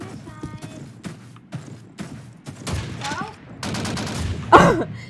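Gunfire in the video game Call of Duty 2 comes as several sharp, loud single shots and bursts spread across the clip, with a player's voice talking between them.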